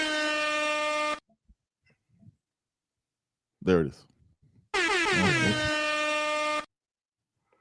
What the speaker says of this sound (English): do the air horn